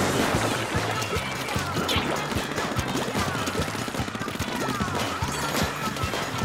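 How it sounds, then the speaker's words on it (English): Tenta Missiles from Splatoon 2 pound down in a dense, continuous barrage of rapid impacts and splats, loud and close, with busy game action filling the whole stretch. "More tenta missiles being targeted."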